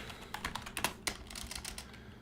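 Fingers type quickly on a computer keyboard, a dense, close patter of clicking keystrokes with a few louder taps and no talking.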